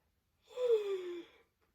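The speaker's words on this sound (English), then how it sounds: "I have to yawn." A single soft yawn, a breathy, falling vocal exhale lasting about a second, close and quiet with silence around it.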